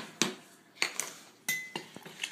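Cornstarch being stirred into a little water in a dish, a utensil clinking against the sides in several separate close strokes with short pauses between them.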